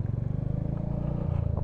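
A Royal Enfield Hunter 350 motorcycle pulls away in first gear from a 500 rpm tickover, its single-cylinder engine thumping in a steady, fast pulse close by.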